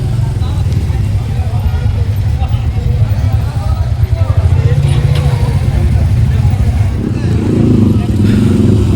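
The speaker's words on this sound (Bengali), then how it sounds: "দেখুন সবাই বাইক নিয়ে এসেছে এখানে, আরও আসছে এইদিকে।" Motorcycles rumble and rev at the Plassey monument at night, their engines droning beneath a loud crowd of people chattering nearby.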